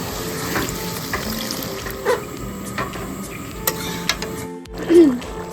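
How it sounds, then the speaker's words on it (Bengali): Water poured into mustard paste frying in a pan for a Bengali mustard okra dish sets off a steady close sizzle and bubbling that runs throughout, with faint stirring and a brief voice-like chirp near the end. "এবার দিয়ে দিচ্ছি জল।"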